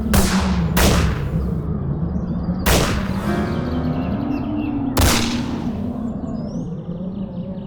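Four loud gunshots ring out at irregular intervals, each sharp crack trailing into echo over a constant low drone.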